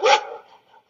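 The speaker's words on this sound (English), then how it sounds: "Dog." A single dog bark, close and loud, with a brief fading tail afterward, heard during a children's alphabet lesson.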